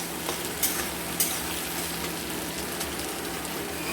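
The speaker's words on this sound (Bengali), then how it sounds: "ক্যাপসিকাম দিয়ে আমরা সামান্য নাড়াচাড়া করব" Capsicum stirred and fried in a pan for a chicken curry, a continuous close sizzle with a few soft scraping stirs and no talking.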